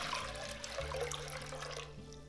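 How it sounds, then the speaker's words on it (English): Water pours steadily into a container, a continuous splashing rush that stays even throughout, with no voices. "In a pot, add the water."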